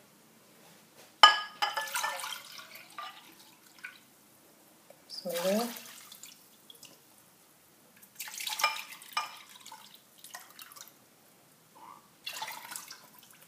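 Water is poured onto a pound of sugar in a pot to make syrup for Tunisian makroudh, heard as several short splashing pours between stretches of nearby speech.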